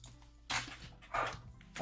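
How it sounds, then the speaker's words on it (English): Pet dogs barking indoors in a couple of sharp bursts, moderately loud against a quiet room hum during a live game-watching stream. "sorry, my dogs are barking"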